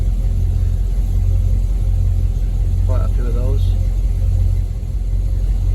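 A Land Rover Discovery 2 V8 engine idles as a steady, low rumble throughout, with someone briefly speaking over it midway.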